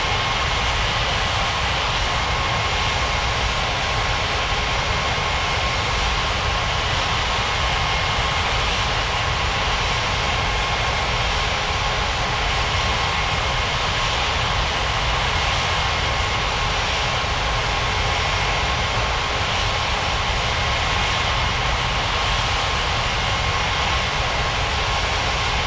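Airliner engines hum in a steady, loud, continuous roar as an Air India jet taxis to the runway in a flight simulation game.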